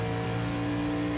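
A race car engine in a sim racing video game comes back on throttle, a steady droning engine tone holding at a constant pitch, loud and close, with a brief change near the end and no speech.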